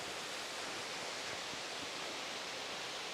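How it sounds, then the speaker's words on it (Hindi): Waterfall tumbling down beside a footbridge in Bhutan, a steady, dense broadband roar of falling water that holds unchanged and fairly loud throughout, with no voices. "ये है झरना"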